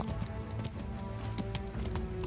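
Game horse in Kingdom trots with quick, steady clip-clop hoofbeats under a soft musical backdrop, light and continuous throughout.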